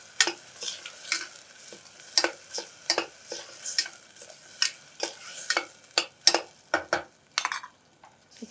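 A spoon stirs ground coriander into a cooking millet dish, a run of short scraping strokes against the pot with a soft sizzle beneath, close and fairly quiet, with no talking.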